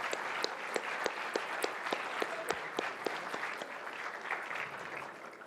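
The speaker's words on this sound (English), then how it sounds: "Let's please offer a round of applause for our wonderful partners." A university event audience applauds its partners with a steady wash of clapping, a few sharp individual claps standing out near the front, tapering slightly at the end.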